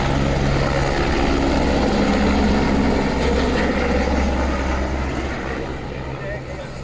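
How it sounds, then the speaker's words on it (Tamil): A tourist helicopter circles over Kovalam near Chennai, its rotor and engine making a loud, continuous broadband roar that fades slightly toward the end. "சென்னை கோவளத்தில் திரண்ட சுற்றுலா பயணிகள் ஹெலிகாப்டர் சுற்றுலாவில் ஆர்வமாக பங்கேற்றனர்."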